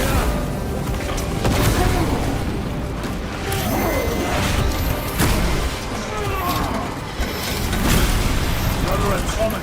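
Grenade and combat explosions in Warhammer 40,000: Space Marine 2 boom repeatedly amid clanking mechanisms and gunfire, loud and close, with a spoken shout between the blasts.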